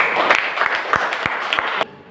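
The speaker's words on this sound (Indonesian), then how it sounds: "Beri tepuk tangan untuk kedua temannya." Scattered applause from a small group of students in a micro-teaching classroom, a few distinct sharp claps standing out over softer clapping before it stops abruptly.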